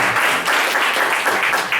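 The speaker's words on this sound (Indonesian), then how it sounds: "Tepuk tangan dong buat SB 12." A crowd at a Prudential team gathering claps loudly and continuously in dense, close applause for a group being celebrated.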